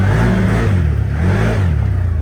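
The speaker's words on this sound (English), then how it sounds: "I'm gonna go spin her around in the yard." A CFMoto ZForce 950 side-by-side fitted with a clutch kit revs and pulls away, a loud close engine drone with a slight rise and fall, no talking.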